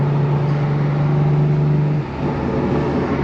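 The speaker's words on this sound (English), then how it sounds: "I want to shut the valves real quick and see what the car sounds like with it shut" A loud, steady BMW G80 M3 engine drone with a deep muffled exhaust note from a titanium exhaust with its valves shut, holding a constant pitch before dipping slightly, heard up close without speech.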